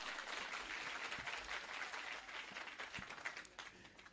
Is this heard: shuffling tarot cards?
no